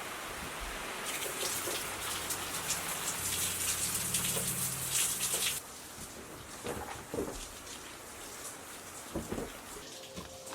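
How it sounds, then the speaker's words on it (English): Steady rain hisses and patters outdoors, heavier for the first few seconds, then lighter drips continue alone. "It's raining!"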